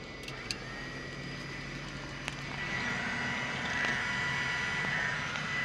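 On a Cessna 310R during an exterior preflight, the wing flaps run down with a steady electric motor whine. The whine rises slightly partway through over faint background hum, with a few small clicks and no voices.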